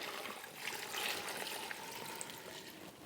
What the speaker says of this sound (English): And to this, I'm adding 4 cups of water.